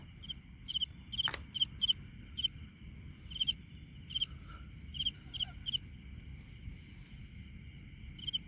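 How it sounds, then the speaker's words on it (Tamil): A single frog calls at night from a field behind a house, giving a string of quick, faint, repeated chirps over a soft, low outdoor background. "ஒரே ஒரு தவளை தான் உட்காந்துருக்கு அந்த சத்தத்தை நீங்களே காது கொடுத்து கேட்டு பாருங்கள்"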